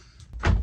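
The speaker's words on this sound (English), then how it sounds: "Shut the door behind you." An indoor door inside an RV swings shut with a single dull thud near the middle, set against quiet room tone and a little light rustling.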